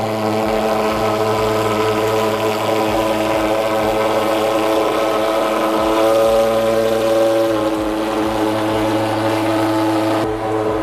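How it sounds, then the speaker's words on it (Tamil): Close and loud, a remote-control toy helicopter hovers and flies with a steady whining motor and rotor buzz holding for about eleven seconds, wavering slightly in pitch, with no talk over it. "நம்ம ஹெலிகாப்டர் ஓட்டுறோம்ல"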